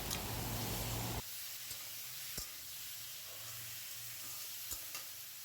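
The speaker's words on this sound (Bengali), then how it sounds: "দিয়ে দেওয়ার পর এবার সব কিছু একসাথে আবারও সুন্দরভাবে একটু কষিয়ে নেব।" Fried potatoes and grated coconut stirred into a spice masala for Bengali ghugni, with a steady close sizzle and occasional scrapes of a spatula against the pan, no talking.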